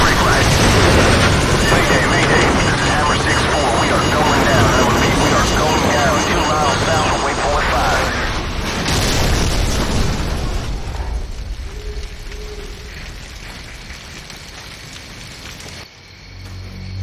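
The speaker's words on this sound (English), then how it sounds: "Incoming missile!" A missile explosion in Call of Duty 4: Modern Warfare: a loud, sustained roaring blast that fills about ten seconds, then thins into a lower rumble and quiets, with voices mixed in.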